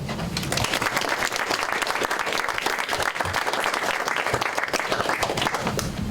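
A lecture-hall audience gives sustained, dense applause to welcome speakers at an author event, steady and loud throughout with no pause.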